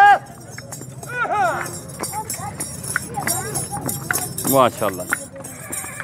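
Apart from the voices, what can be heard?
dancing mare horse hooves and neighing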